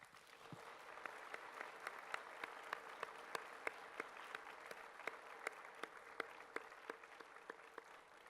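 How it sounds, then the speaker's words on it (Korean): A congregation at a Korean church winter retreat revival service gives a round of thankful applause. It is soft and somewhat distant, a steady wash of many hands with individual claps ticking through at a fairly regular pace. "우리 감사의 박수를 이 시간에 한번"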